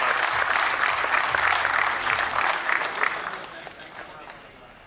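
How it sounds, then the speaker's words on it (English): An audience at a conference inaugural session breaks into loud, sustained applause that gradually thins and fades toward the end. "Applause"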